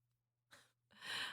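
A woman gasps in a drama scene, a short sharp intake of breath followed by a longer, louder breathy exhale, heard close and alone against a faint hum.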